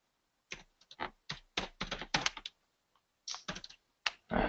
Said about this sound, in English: So we'll just type in polygon.